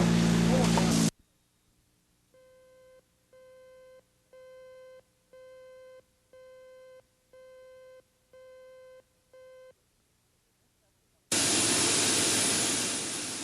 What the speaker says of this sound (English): This 727 was the first Pan American jet to fly out of Oklahoma City.